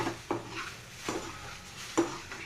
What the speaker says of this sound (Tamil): நல்ல கிளறி விட்டுக்கிடுங்க.